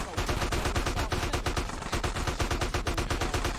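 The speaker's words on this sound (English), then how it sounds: "this is what I meant when I said that the gunfire was so unbelievably loud" Rapid, loud bursts of automatic gunfire in GTA San Andreas Definitive Edition, with shots rattling in a steady fast rhythm for several seconds, briefly thinning in the middle before resuming.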